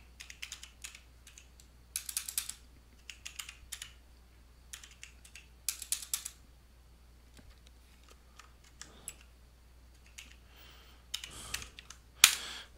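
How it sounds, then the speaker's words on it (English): Computer keyboard typing in quiet bursts of rapid keystrokes with pauses between, faint and close, with no speech. "I'm just going to have to type them out."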